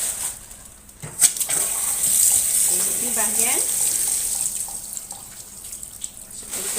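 Tap water running steadily while raw chicken is washed by hand in a sink, with splashes and a sharp clunk near the start, under brief, close talk.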